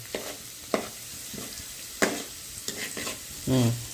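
Carrot and egg sizzle steadily in a pan, with periodic scraping stirs and clinks of a utensil against the pan at close range.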